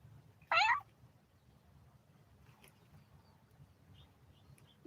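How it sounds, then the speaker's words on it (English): A domestic cat gives a single short, clear meow early on, then only faint background hush and quiet rustles follow. "Did we hear our cat?"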